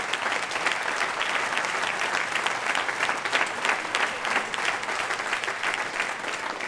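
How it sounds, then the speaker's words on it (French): Audience at a concert applauding the choir conductor, a dense sustained burst of clapping from many hands, loud and even without pause. "on peut l'applaudir très très fort"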